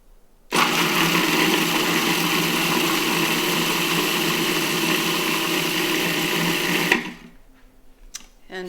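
Kitchen blender whirring through green apple mint chutney, a loud steady motor drone that starts abruptly, runs for about six seconds and cuts off, followed by quieter handling sounds.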